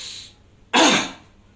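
A single forceful cough bursts out after a deep inhaled breath through the nose, done as a breathing exercise by a heart surgery patient with coronary heart disease; close, loud and alone.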